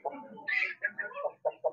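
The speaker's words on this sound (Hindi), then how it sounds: "उस मुर्गे को भी निकालते हैं यार" Chicken sounds from a rooster among farm birds being let out at feeding time: a short run of close, fairly loud clucks and squawks in quick, uneven bursts.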